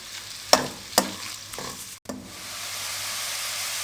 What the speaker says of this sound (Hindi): मीडियम फ्लेम पे प्याज हल्के ब्राउन हो चुके हैं।